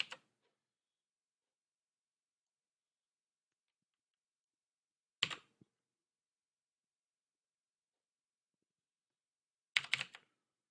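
Quiet computer keyboard typing comes in three short isolated clusters of key clicks, each separated by several seconds of near silence, during work on a game in Unreal Engine 4.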